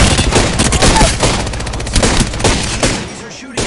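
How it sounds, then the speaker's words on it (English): Rapid, loud gunfire in the Apex Legends video game, close bursts of overlapping shots crackling in quick succession before tailing off near the end, with a voice faintly under the shooting. "These are shooting at me."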